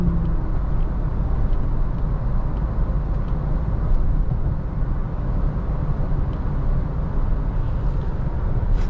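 A Toyota Hilux automatic pickup cruises on the highway at 80 and 1400 rpm, giving a steady, low cabin drone of engine and road rumble with no talk.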